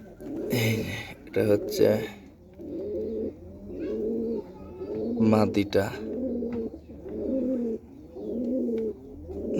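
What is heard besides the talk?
Gola pigeons cooing in a coop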